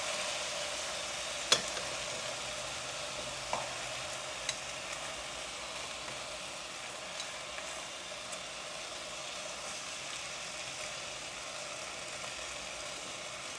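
Half a kilo of meat sizzles steadily in a covered pan, a constant bright frying hiss with a few faint clicks and taps, no voices.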